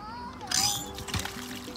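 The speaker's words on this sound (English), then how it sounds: "Pump water." A hand-worked water pump at a park playground sends out a brief splashing gush of water midway, while children and an adult talk nearby.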